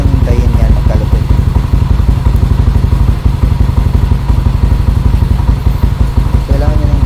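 A motorcycle engine idles just after start-up, a steady rapid low chugging close by with faint clatter, while someone talks over it.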